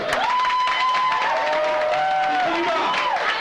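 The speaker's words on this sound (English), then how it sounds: "You can clap now, or you can clap after" Audience clapping at a graduation banquet, a continuous dense patter of hands under a sustained tonal voice or music line, steady in level from start to finish.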